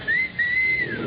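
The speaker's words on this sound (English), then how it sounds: "if you want a taxi, just whistle" A person whistles for a taxi: two clear rising-then-held whistle notes, loud and close, the second longer and sliding down at the end.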